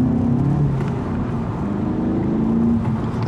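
A VW Polo GTI engine pulls hard in second gear, a steady, loud interior drone that rises in pitch as it accelerates, heard close with road noise underneath.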